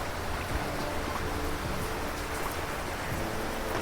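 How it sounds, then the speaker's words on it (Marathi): Steady rain falls with a constant dense hiss, continuous and fairly loud, with no voices. "आणि थोडं थोडं पाऊस पण चालू आहे"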